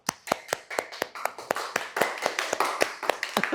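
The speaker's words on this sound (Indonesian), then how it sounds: "Tepuk tangan." A group in a classroom claps in a steady, even rhythm, about five sharp claps per second, close and clear with no talking over it.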